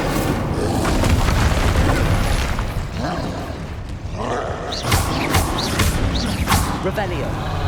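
An Incendio fire spell blasts in Hogwarts Legacy on PlayStation 5, a loud, sustained roaring whoosh with booming bursts layered over continuous game sound and music, with a voice speaking over it.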